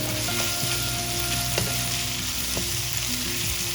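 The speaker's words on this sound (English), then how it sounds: "You also need to add some the chilies into this mix and let that cook as well along with this." Chilies for a homestyle mutter paneer sizzle and fry in a hot pan, a dense continuous crackle with occasional sharper pops and stirring clicks, close and loud with no voices.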